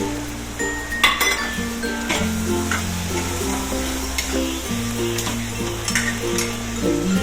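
Spice powder being stirred into potato khichdi as it fries in a pan, with near, steady sizzling and repeated clinks of a spoon scraping and tapping the pot throughout.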